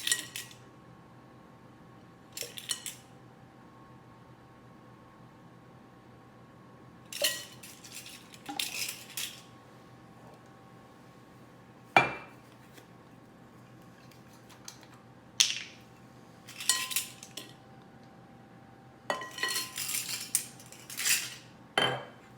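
Sugar and vanilla extract beaten into scone batter, heard as bursts of a utensil clinking and scraping against a bowl, separated by quiet pauses, close and fairly loud.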